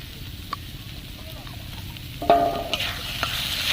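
Carrot halwa being stirred in a pan just after ghee goes in, with soft scraping and a gentle sizzle that grows louder midway, a few sharp clinks of the spoon against the metal, no talking.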